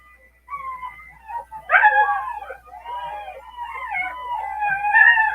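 A litter of puppies howls, whimpers and yips together in a layered, wavering chorus of high cries, close by and continuous, with no voices over them.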